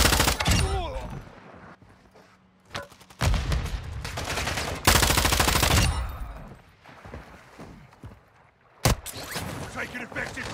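Loud bursts of automatic gunfire in Call of Duty Warzone DMZ come in several separate volleys with short lulls between them, with sharp single cracks, and radio-style voices speak in the gaps.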